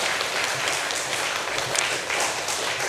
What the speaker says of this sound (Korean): 성가대 분들께 감사하면서 다시 한번 박수 드리겠습니다